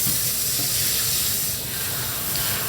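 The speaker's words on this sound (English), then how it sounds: "And now we're going to start the water." Tap water runs steadily from a faucet into a sink while a hair system is wetted for shampooing, a constant close hiss with no talk.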